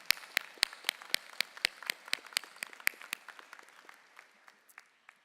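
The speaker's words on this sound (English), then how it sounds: "please let's give him a round of applause in absentia" Sparse applause at a law school commencement ceremony, a handful of distinct, fairly faint claps in an uneven rhythm that thins out and slows toward the end.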